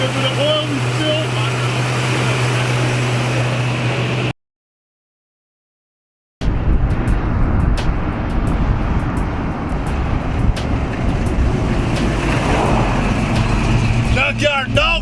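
A supercharged 351 Cleveland engine in a Foxbody Mustang runs steadily at 2,000 RPM for cam break-in, a loud constant drone broken by a short silent gap.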